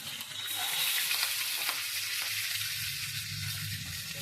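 Eggs frying in hot oil in a pan, a steady loud sizzle that holds across the whole stretch, with soft scraping and bubbling underneath and no voices.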